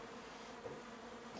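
Newly arrived bees hum in a steady, faint, continuous drone on a rainy homestead, with no talking.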